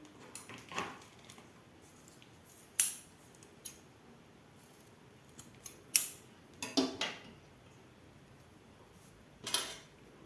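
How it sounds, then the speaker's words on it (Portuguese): Scissors snip cotton twine in a few sharp, quiet clicks spread apart, close up against a hushed room with no talk. "aqui a gente já pode cortar o fio. Deixa eu pegar a tesoura aqui."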